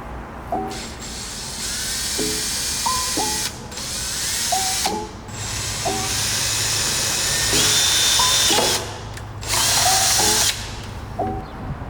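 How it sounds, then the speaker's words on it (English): A power drill whines in repeated bursts, revving up and down several times as it bores into material, loud and close with brief pauses between runs. "drilling a hole over here"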